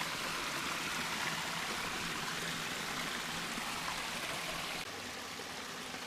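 Water pouring steadily into a mine pond used for gold processing, a constant close rushing and splashing flow with no pauses, and no voices.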